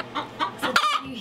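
A hen sings her egg-laying song close by in a garden, a short burst of quick, rising clucks and squawks that ends with a drawn-out call.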